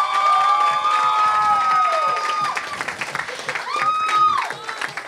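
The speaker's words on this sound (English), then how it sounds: "giving Blake a round of applause because he just married this babe" Wedding guests give a round of applause and cheer for the newly married groom during a toast, with loud sustained clapping, shouts and whistles from a lively crowd.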